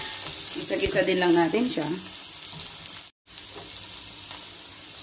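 Onion sizzling in hot oil in a pan for ginataang ampalaya, a steady frying hiss under a voice speaking, with a brief stir midway.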